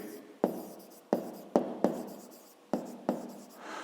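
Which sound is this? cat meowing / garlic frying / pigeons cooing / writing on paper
writing on paper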